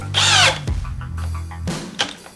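Bosch cordless drill boring with a 1.5 inch paddle bit, a short high whine that spins up, bogs into the cut, then revs again briefly, close and loud.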